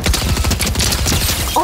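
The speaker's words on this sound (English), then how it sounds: "Man's already shot me." Rapid Fortnite gunfire in a video game, a dense burst of shots crackling steadily through the whole short moment, loud and close, ending with a brief high electronic game tone.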